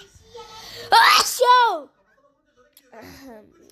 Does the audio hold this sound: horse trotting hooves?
no